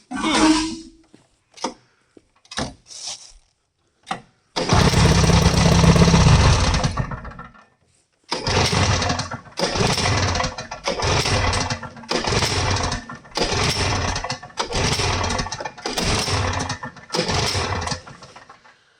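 A Wheel Horse lawn tractor engine after a fuel fix, preceded by several sharp clicks and knocks, then a rough burst of running, a pause, and a string of chugging, pulsing engine surges close by.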